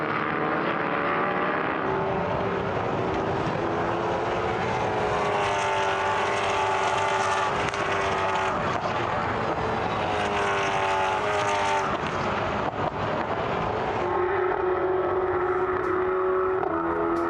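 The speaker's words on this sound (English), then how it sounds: "as the cars make their way up the hill at Portimao" Endurance prototype race cars climbing the hill at Portimão circuit, with loud continuous engine roar and shifting revs as several cars pass close by, sustained throughout.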